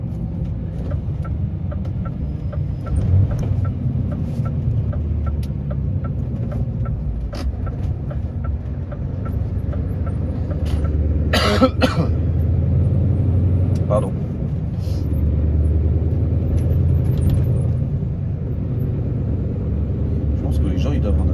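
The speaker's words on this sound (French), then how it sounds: "Je pense que les gens ils doivent en avoir marre d'entendre des camions passer par ici." Heavy truck driving along a winding detour road, its engine a low, steady rumble close by that swells louder midway, with occasional creaks and a brief word spoken.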